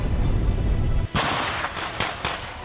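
Gunfire and artillery in wartime Ukraine, a rumbling low barrage giving way to sharp, loud reports in a quick irregular cluster of three or four blasts, with no speech.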